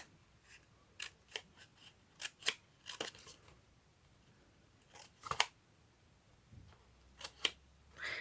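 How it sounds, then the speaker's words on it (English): Scissors cutting paper along the frame of a handmade tunnel book, a series of close, crisp snips in irregular bursts, some in quick pairs, with quiet pauses between them. "You can also cut alongside the frame, of course."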